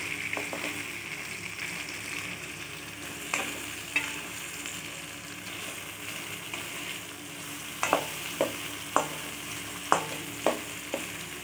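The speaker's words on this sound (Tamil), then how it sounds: "உப்பு போட்டு நல்லா கலரி விட்டுக்கலாம்" Tomatoes and onions with salt are stirred in a pan under a steady soft sizzle, with a spoon scraping and clinking in a series of sharp taps that grow more frequent toward the end, and no talking.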